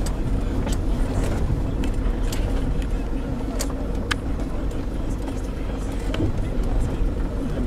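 A safari vehicle rolls into a caged lion enclosure at a South African lion park, its engine a steady low rumble heard from inside, with scattered clicks and rattles over the drone.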